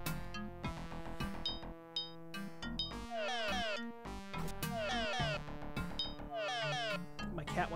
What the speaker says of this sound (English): Cat wants food.